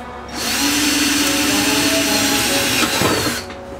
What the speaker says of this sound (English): I love these stubby drills.